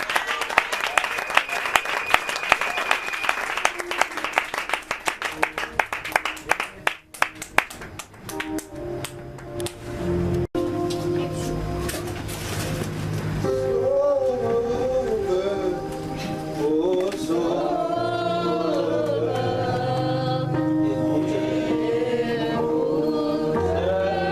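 A church congregation at a worship service claps in quick, steady rhythm for several seconds, then the clapping fades as loud music and singing take over.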